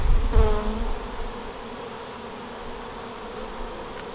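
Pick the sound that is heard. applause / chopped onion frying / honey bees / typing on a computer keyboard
honey bees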